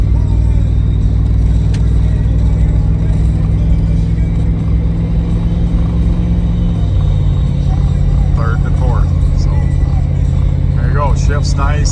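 A 1992 Chevrolet Blazer truck drives down the road with a loud, steady low engine rumble, the pitch dropping slightly midway as it shifts, and someone talking over it toward the end.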